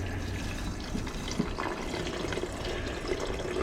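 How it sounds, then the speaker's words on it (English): Distilled water pours steadily into a beaker for gold recovery from electronic fingers, a continuous close splashing fill with no talk over it. "Now I'm going to put some distilled water in there."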